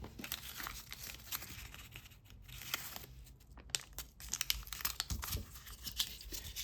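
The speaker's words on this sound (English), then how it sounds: "I'm just going to tape this down." Tape being torn and pressed down to hold a jewellery piece on a bench block, crinkly tearing and crackling bursts at close range, fairly quiet with no talk.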